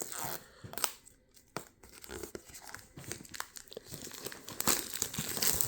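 Plastic wrap is cut and torn away from a Spider-Man 1967 collection DVD set, giving close, irregular crinkling and ripping bursts with brief quiet gaps between them.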